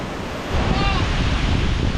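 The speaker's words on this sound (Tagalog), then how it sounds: "Sobrang lakas ng impact ng hangin." Strong typhoon wind roaring and buffeting close by, a constant heavy rush that swells louder partway through.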